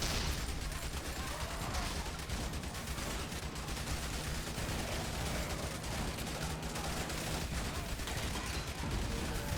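Dense, continuous barrage of blasts and rapid gunfire in a zombie-survival video game, loud and chaotic with no letup, explosions overlapping one another.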